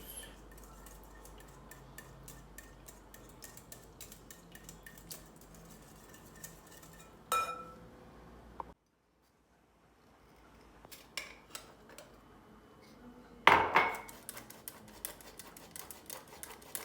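A spoon stirs oil in a bowl for cheese pastry dough, making sparse quiet clinks and scrapes with two louder knocks and a brief silent pause between them.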